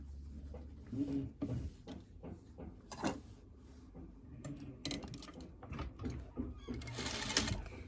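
A sewing machine understitches a seam for single fold bias tape in short irregular runs, with fabric shuffling and small knocks around it, fairly quiet and close.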